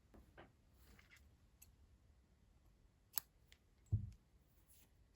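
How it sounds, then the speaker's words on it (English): Scissors snipping through crochet yarn, a few quiet, sharp clicks with a soft thud, heard close in a quiet room. "Then you cut off the yarn and you pull it through."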